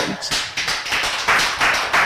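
A studio audience applauds after a French-language broadcast about Evala, the Kabye wrestling initiation, with dense, steady clapping held loud and close for about two seconds and no talk over it.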